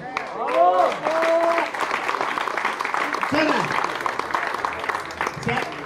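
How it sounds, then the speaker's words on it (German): An outdoor crowd at a vintage car rally departure applauds, steady clapping with voices and calls mixed in over it. "Applaus!"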